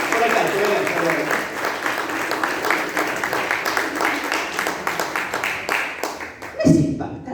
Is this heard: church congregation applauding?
yes